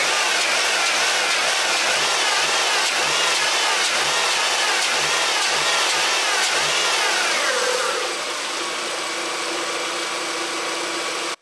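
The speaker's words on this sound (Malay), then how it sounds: "Sekarang ni saya akan biarkan enjin running dalam 5-10 minit macam tu." A car engine with a gearbox jerking fault runs steadily with a pulsing low throb and a few revs, then settles into a smoother, quieter idle near the end; close and loud, with no talking.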